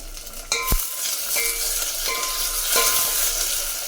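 Tomatoes fry in a hot pan with oil for a drumstick rasam, giving a steady moderate sizzle, a sharp clank of a utensil at the start and a few quieter spatula scrapes as they are stirred.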